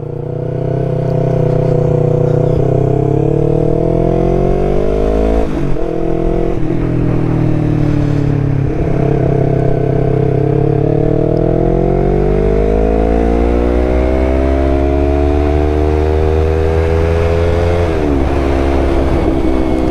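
A 2019 Yamaha YZF-R3 with performance mods revs and pulls through several gears, its engine note climbing loud and close, dropping at each shift, then rising again, with no speech.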